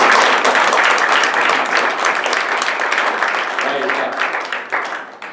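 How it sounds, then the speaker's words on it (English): A church congregation claps steadily and densely through a late evening service, with voices calling out over it. The clapping thins and fades toward the end. "Clap your hands."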